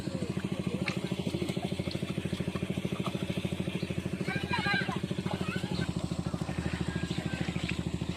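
A motorbike engine idling with a steady, rhythmic putter, while people talk over it.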